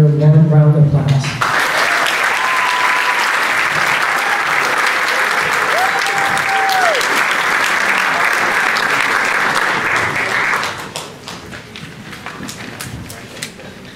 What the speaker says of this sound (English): please welcome them with your warm round of applause